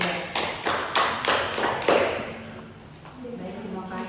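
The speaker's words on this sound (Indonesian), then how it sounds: "kita beri aplaus untuk kelompok" Classroom applause for a student group during a microteaching lesson: a burst of several people clapping for about two seconds, then fading into room noise with faint voices.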